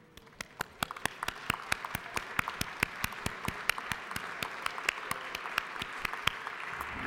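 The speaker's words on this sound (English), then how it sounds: "I would appreciate your joining me in applauding their accomplishments" An audience in a state House chamber applauding students seated in the balcony with their families, a sustained burst of many hands clapping that fills the room and stays steady throughout.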